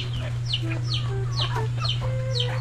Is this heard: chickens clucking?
yes